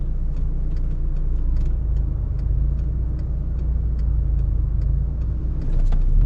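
A car engine idling and pulling as a learner driver adds gas, a loud steady low rumble with regular ticking clicks throughout and a slight rise in level toward the end, no talking.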